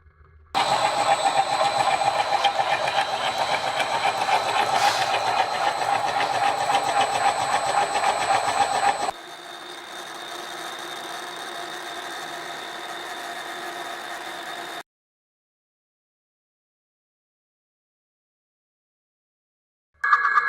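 Steady machining drone from a milling cutter, 3/4 inch two-flute high-speed steel, turning at 200 RPM and feeding at 2 inches per minute, loud and continuous, dropping in pitch partway, then stopping abruptly into silence before restarting briefly.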